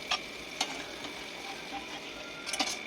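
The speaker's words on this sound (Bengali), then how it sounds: "একটু ভালো করে কষিয়ে নিতে হবে" Spice paste for a pointed gourd and pumpkin flower dish sautés in a pan with a low, steady sizzle and a few sharp spoon scrapes and clicks, fairly quiet and with no talking.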